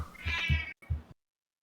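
A cat meows twice up close, a longer drawn-out call followed by a shorter one, clear against a quiet background.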